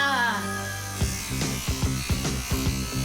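An electric toothbrush in a cartoon buzzes in short, repeated bursts after a tonal opening, each pulse starting with a sharp electric whir, moderately loud and close.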